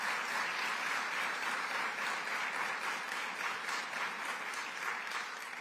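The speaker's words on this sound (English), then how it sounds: "So let's give FoodLink a big round of applause" An audience applauding FoodLink: dense, sustained clapping from a crowd in a hall, steady and even throughout and fading slightly toward the end.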